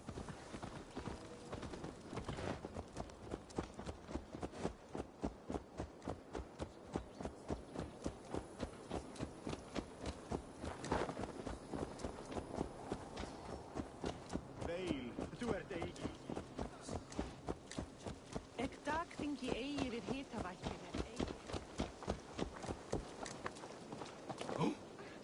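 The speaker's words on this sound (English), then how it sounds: "Let's return the horse." Horse hooves clip-clop in a steady rhythmic gait throughout a long stretch of Assassin's Creed Valhalla gameplay, moderately loud and continuous, with game dialogue and voices speaking over the hoofbeats.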